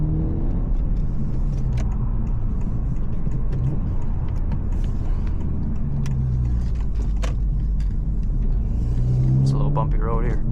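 A tuned Honda Civic Si with a downpipe and front pipe drives along a bumpy road, giving a steady low engine and road rumble throughout with a faint rise in revs near the end.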